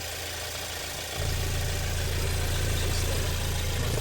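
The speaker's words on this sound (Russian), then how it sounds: "Турбированный GDI мотор." The turbocharged 2.0-litre GDI engine of a 2018 Hyundai Santa Fe, idling as a steady close mechanical hum that swells into a deeper, louder drone a second in and holds there.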